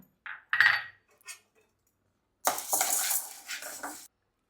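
Chana dal dry-roasting in a pan for idli podi, stirred with a spoon that scrapes and clatters against the metal in a few short bursts, then a longer stretch of rattling and rustling of the lentils, close and fairly loud.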